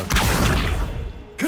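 An Accio summoning spell in Hogwarts Legacy pulls objects with a loud, dense rushing whoosh carrying low rumbling thuds. It lasts about a second, then cuts off sharply before a short new sound starts.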